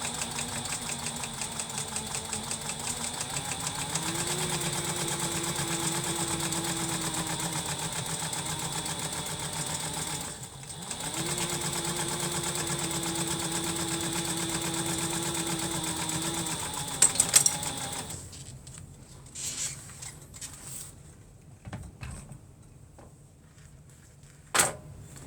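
A sewing machine hums steadily while stitching a clear shoulder bag, its motor pitch rising and settling in long runs with a brief pause midway, then stopping into quieter handling noises and clicks.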